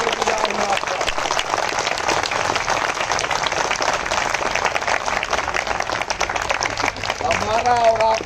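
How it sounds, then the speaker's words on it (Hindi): Audience at a hunger-strike protest gathering clapping, a steady, fairly dense round of applause throughout with crowd murmur underneath and a voice rising near the end. "इतनी कमजोर तालियों के लिए"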